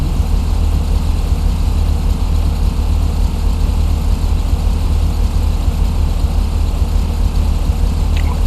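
A motorcycle engine idles in the Roblox video game, a loud, steady low rumble with an even, rapid throb and no change in revs.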